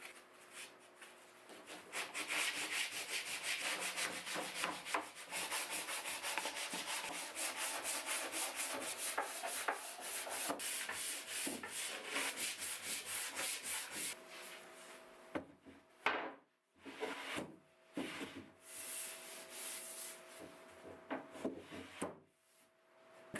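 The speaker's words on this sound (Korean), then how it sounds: "지붕상판이 부드럽게 분해에 조립될 수 있도록 사포 작업을 합니다." Sandpaper rubs back and forth over a wooden roof panel in quick, steady strokes, close and continuous, then slows to a few separate scrapes with short pauses.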